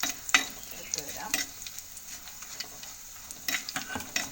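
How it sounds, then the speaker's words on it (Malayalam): Dried red chillies fry with already-popped mustard seeds in a hot pan, giving a quiet, uneven crackle. Scattered sharp pops and light stirring clicks come and go, with no one speaking. "കടുക് പൊട്ടിയതിന് ശേഷം നമുക്ക് വറ്റൽമുളക് കൂടി ഇട്ട് ചൂടാക്കി എടുക്കാം."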